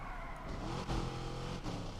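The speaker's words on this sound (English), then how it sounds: "Driving past a police car with an exhaust that sounds like that." A loud car engine in the video game Need for Speed Unbound rumbles steadily with low, throaty exhaust, rising briefly in a couple of sharp revving bursts.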